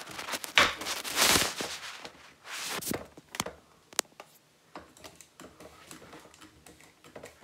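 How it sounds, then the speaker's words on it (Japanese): Dishes being hand-washed at a sink, with clattering and clinking of tableware and running-water hiss, louder bursts early then scattered light clinks and taps, close by and without talk. "ほらこうやって食器洗うだけで"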